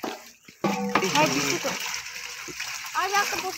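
Water is poured and splashes into a pot of freshly netted pond fish in a village, a bright close gush and splatter with people talking over it.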